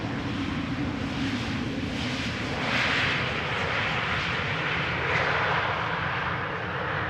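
An airliner lands at Amsterdam Schiphol Airport, a steady loud roar of jet engines heard from a distance that swells slightly and holds without break.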